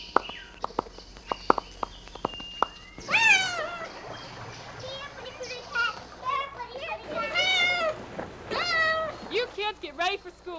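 A cat meows several times, loud and close, its harmonic calls rising and falling over a household scene with children's voices and clicking noises at the start.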